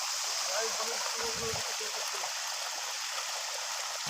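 Water from a tanker flows steadily onto a drying paddy crop in a village field, a soft continuous stream that stays faint and even throughout.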